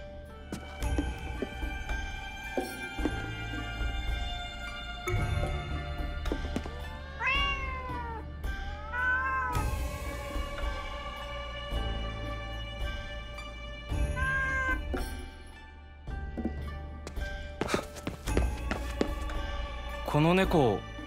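Several drawn-out meows from a nekomata cat spirit in Ghostwire: Tokyo, rising and falling over a constant ambient drone with voices speaking throughout.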